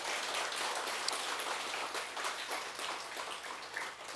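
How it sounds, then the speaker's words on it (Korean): Soft, even applause from an audience at a Buddhist dharma assembly, a continuous patter of many hands heard at moderate distance. "다 함께 박수 한번 보내주시기 바랍니다"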